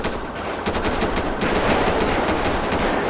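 Sustained automatic gunfire from a police video game, rapid loud bursts filling the whole stretch in a continuous dense rattle with no talk over it.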